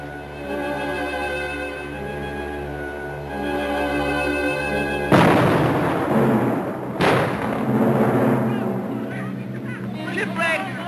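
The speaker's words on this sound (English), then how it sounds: "Sending up rockets!" Distress rockets fired from a ship aground on rocks: a sudden loud whooshing burst cuts in after a sustained tone, followed by a second blast and continuing roar, with excited shouting voices over it.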